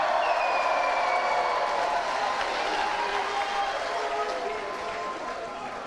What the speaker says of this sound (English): let's hear a cheer for those listening outside and from those listening outside